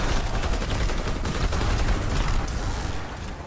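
Rapid, sustained weapon fire from a Tesla gun in Call of Duty: WWII Nazi Zombies, a dense crackling burst that stays loud and steady throughout with no voices.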